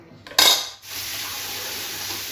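Puffed rice ingredients being mixed in a metal vessel: a bright metallic clank and rattle near the start, then a soft steady hiss of stirring, close and clear with no talking.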